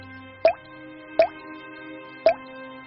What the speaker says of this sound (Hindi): छत से पानी टपकता था।